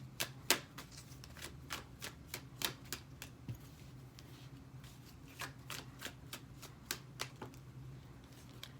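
Tarot cards are shuffled and drawn by hand, making a series of soft, crisp flicks and slaps in an irregular rhythm, close by and faint in a quiet room.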